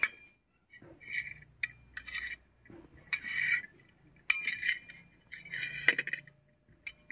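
A utensil scrapes and clinks against a pan while eggs are stirred for an omelette in 44-degree heat, giving close, quiet metallic taps and short scraping strokes in irregular bursts separated by brief silences.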